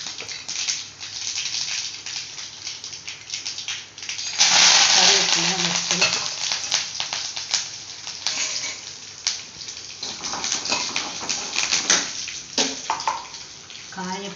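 Fenugreek, mustard seeds and chana dal roasting in a pan, a loud continuous sizzle and crackle with frequent scraping stirs, growing fiercer partway through, close up.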